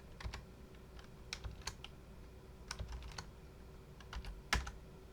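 Code typed on a computer keyboard, faint scattered key clicks in short irregular bursts with a louder thump near the end.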